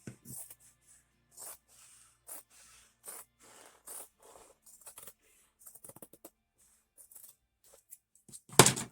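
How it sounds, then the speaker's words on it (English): Scissors snip a slit up the back of a homemade fabric Feral Style mask, a series of short, crisp cuts in close succession, close and quiet, ending with a louder final snip. "Cut a little slit straight up the back."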